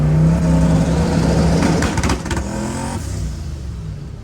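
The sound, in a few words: car engine revving with exhaust pops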